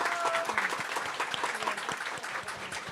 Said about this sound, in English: And let's give Mary a nice round of applause.